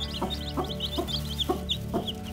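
A mother hen clucks in a steady, evenly spaced rhythm while her baby chicks peep softly and continuously around her on a homestead.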